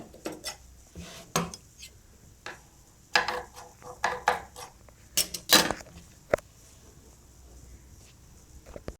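Scissors snipping through churidar fabric along a stitched neckline, a series of short, crisp metallic clicks and snips in uneven bursts, close and fairly quiet, with no voices.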